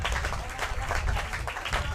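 Crowd applause at a disc game after a diving layout catch, a short burst of clapping and cheering from spectators, with a commentator speaking over it.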